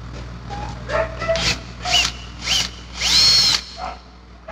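A power drill or driver whirs in several short bursts, pausing and restarting with rising pitch, while removing a screw from a Bosch GBH 2-23 REA rotary hammer during a repair.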